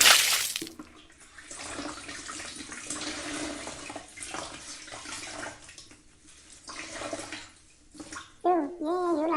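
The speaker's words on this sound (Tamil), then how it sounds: "ஏன் இவ்வளோ அழுத்தி தேய்க்கிறேன்? அது வரைக்கும் சவுண்டு கேட்குது." Floor being mopped and scrubbed hard: repeated wet swishing and rubbing strokes, close and moderately loud, with a brief voice near the end.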